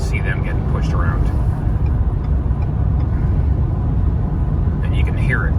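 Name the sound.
strong wind blowing around a moving truck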